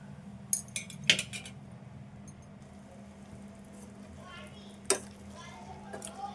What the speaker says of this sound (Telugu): కొంచెము ఇదంతా కలిసేదాకా కలుపుకుంటే సరిపోద్ది